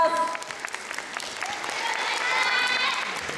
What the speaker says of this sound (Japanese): 皆さんもう一度拍手お願いします